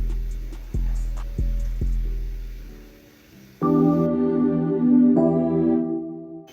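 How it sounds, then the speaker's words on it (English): An RnB electric piano from the Triton plugin in FL Studio sounds warm sustained chords, which ring out alone after a few deep low thumps. "RnB E piano from the same plugin"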